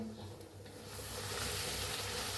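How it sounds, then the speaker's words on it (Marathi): Puris deep-frying in hot oil, a steady, dense sizzle that swells and stays loud and close for the whole stretch, with no talking. "छान अशा तळल्या त्या पुऱ्या"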